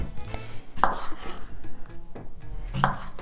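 A knife knocks against a cutting board in two sharp chops through a fresh cucumber amid soft scraping and handling noises, close up.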